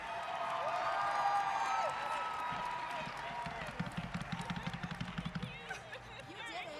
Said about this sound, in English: Come on, give her a big round of applause